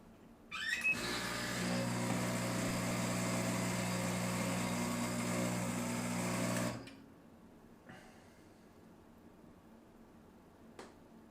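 An espresso machine pump pulling a coffee shot, a loud steady buzzing hum that starts abruptly, runs about six seconds and cuts off, followed by faint clicks in a quiet room.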